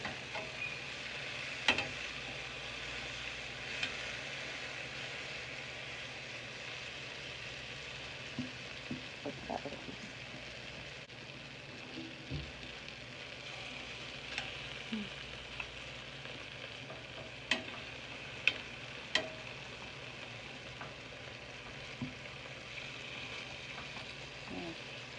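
Eggplant fries in a pan with a steady close sizzle and crackle, broken by occasional sharp pops and clinks of stirring, and no one speaks.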